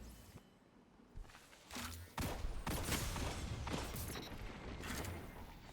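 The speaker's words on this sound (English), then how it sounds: "Yeah, this is such a good hand cannon." Hand cannon gunfire in a Destiny 2 PvP match, a series of sharp shots and mechanical clicks in irregular bursts, growing louder and busier in the second half.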